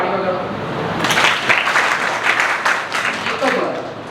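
An audience at an entrepreneurship and innovation workshop breaks into dense clapping after a second of quieter sound. The applause stays close and steady with a few sharper peaks, and voices can be heard faintly underneath.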